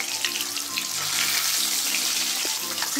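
Chitol fish frying in hot oil, a loud continuous hiss and crackle filling the scene close up, with a faint low hum underneath.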